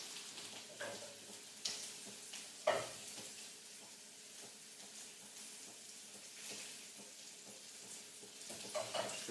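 Prawns sizzle in a pan with butter and lemon, a steady quiet frying hiss broken by a few scraping stirs and utensil knocks, heard close and without talk.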